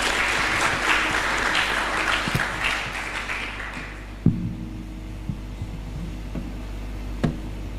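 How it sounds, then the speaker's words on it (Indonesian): Audience applause welcoming a speaker at an Islamic lecture gathering, a loud burst of clapping that fades away over about four seconds, leaving low hum and a few scattered knocks. "Tepuk tangan menyambut beliau."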